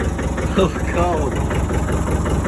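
A buggy's engine idles in the cold, running as a steady, rumbling idle with a rhythmic low thrum at close range, while a person speaks over it.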